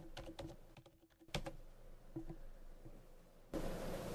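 A field name is typed on a computer keyboard in a quiet room: a brisk run of light, close key taps with short pauses, followed by a louder hiss of background noise.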